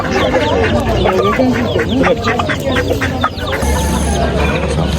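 Rooster crowing and hens clucking at a busy poultry bird market, loud and close, with repeated calls layered over crowd chatter and people talking.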